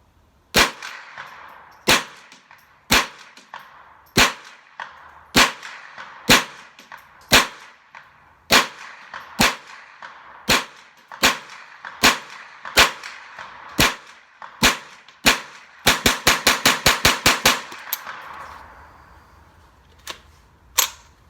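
A Ruger 10/22 takedown .22 rifle fed from a 25-round BX25 magazine fires about seventeen sharp shots at a steady, moderate pace. It ends with a fast rapid-fire string of close, loud cracks and no talk.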